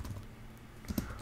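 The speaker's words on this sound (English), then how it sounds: "start typing" Computer keyboard keys tap faintly and close, a few soft clicks over a brief moment with a couple of slightly louder strokes near the end.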